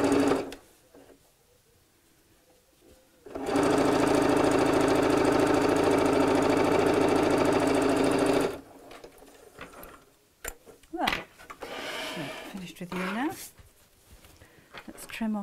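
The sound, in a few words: sewing machine top stitching a fabric cone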